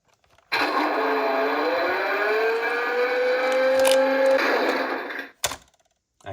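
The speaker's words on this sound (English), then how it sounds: "all the ramps make that sound when you lower them on these Hess trucks" A 2024 Hess toy truck's ramp lowering mechanism gives a steady mechanical whirring hum with a slowly rising pitch for about five seconds, then cuts off, followed by a couple of brief clicks.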